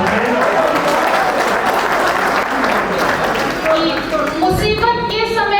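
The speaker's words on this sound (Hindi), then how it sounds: "भाई जोरदार तालियां बजा दीजिए एक बार फिर से।" Vigorous applause from an audience at a kavi sammelan poetry gathering, a loud sustained crowd clapping mixed with voices, with tonal speech or music emerging near the end.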